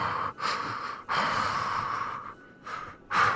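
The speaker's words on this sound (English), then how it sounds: "we can hear the breathing right there" Heavy breathing heard from inside protective suits in a tense horror-drama scene, a run of loud, rasping breaths separated by short pauses, close and unaccompanied by speech.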